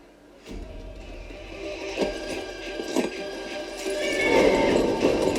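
Horse hooves clip-clop in a scene from The Witcher series, several separate thuds at a walking pace over a background of ambient noise, growing busier toward the end, with no speech.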